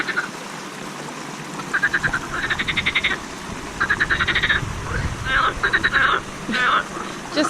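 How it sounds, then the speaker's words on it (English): Frogs croak in rapid, rattling bursts, repeating in several clustered rounds at moderate distance, with a faint voice and background noise underneath. "Do you hear the sound? It's frogs."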